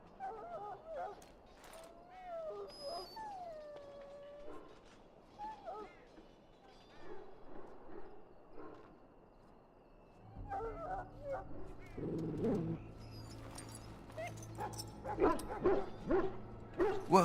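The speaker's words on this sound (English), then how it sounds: "Now I can treat the dog properly, poor fella." In the video game Dragon Age: Origins, a dog whimpers with high whining cries, then barks and yips in short bursts that grow louder near the end, mixed with game ambience and a low hum.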